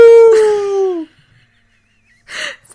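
A human voice imitates a howl, a loud drawn-out descending wail lasting about a second, followed after a pause by a short breathy vocal burst.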